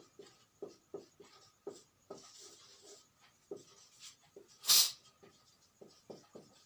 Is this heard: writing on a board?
yes